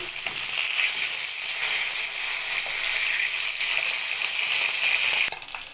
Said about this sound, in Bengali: এবার মাছগুলো পাল্টি করে দিচ্ছি